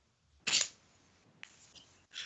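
A single sharp sneeze bursts out near the mic, followed by quieter rustling and a brief clack, with another short noisy burst at the end.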